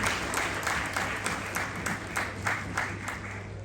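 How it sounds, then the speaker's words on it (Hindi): Audience applause welcoming a guest at a national conclave and parliamentary awards ceremony, a full round of clapping from a large hall with a faint rhythmic pulse, heard close over a steady hum. "तालियों से स्वागत करेंगे"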